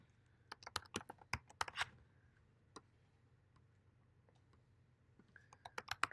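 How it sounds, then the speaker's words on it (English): Someone types on a computer keyboard in quick, quiet bursts of clicking keys, pausing for a few seconds before another flurry of taps, close up with no voices. "I hate the keyboard."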